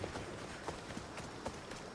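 Horse hooves clopping in the video game Assassin's Creed Odyssey, a quiet run of irregular soft thuds over a steady background wash, with no talk over them.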